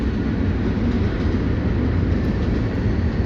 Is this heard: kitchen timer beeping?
no